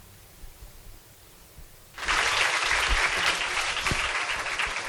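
Audience applause breaks out abruptly at a music and yoga day event, a dense, steady wash of many clapping hands that holds loud and even after a quiet room murmur.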